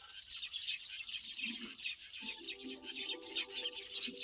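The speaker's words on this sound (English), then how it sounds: "Beautiful birds building their nests." Black-winged weaver birds at their nests on a homestead keep up a dense, busy chorus of high chirps and chatter, with a few lower buzzing calls close by partway through; no voices.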